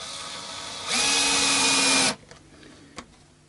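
A power drill bores into a piece of timber on an electric guitar body, a steady high whine for about a second before stopping, followed by a brief click, close and loud with no talk.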